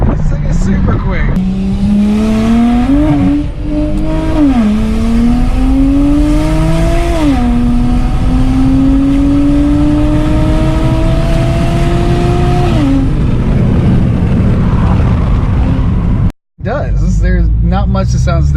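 A Toyota Supra with a screamer pipe exhaust revs hard through a series of rising pulls with brief shift dips, loud and close for about thirteen seconds, then cuts off with a short gap before traffic noise resumes.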